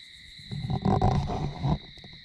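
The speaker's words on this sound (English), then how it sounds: "an owl back there, probably I think that's a barred owl" A barred owl calls at night in the Sipsey Wilderness woods, giving a brief raspy, wavering burst at moderate distance over a steady high drone of night insects.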